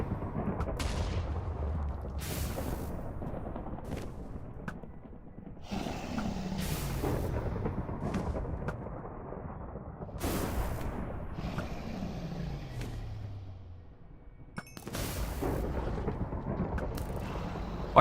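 Weapon firing in a Minecraft adventure RPG modpack, a series of heavy booming shots with long rumbling tails at irregular intervals, loud and close, each blast followed by a decaying roar.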